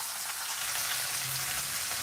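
Chicken rib eyes frying in a generous amount of butter in a pan give a steady, close, loud sizzle and crackle with no talking.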